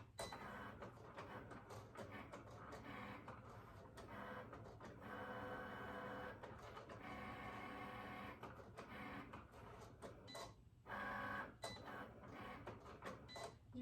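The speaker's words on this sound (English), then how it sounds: "Now I'm going to restart it with the Cricut button." A Cricut cutting machine runs steadily after a restart, its mechanical whir and clicking carriage moves continuing up close with a constant hum and periodic ticks, no talk.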